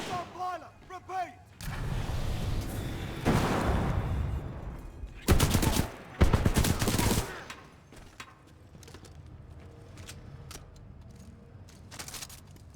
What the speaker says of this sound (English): One of my favourite shotguns of all time, this one. Mastiff.